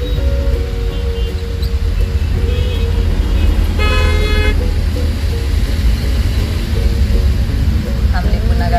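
Car horns honk repeatedly through the steady rumble of engines in a slow, stalled traffic jam, the toots loud and close, with voices talking over the traffic.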